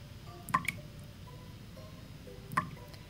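A dripping bathroom tap in a radio horror story lets fall two distinct, clear drops about two seconds apart, each a short wet plink over a quiet, faintly hissing background.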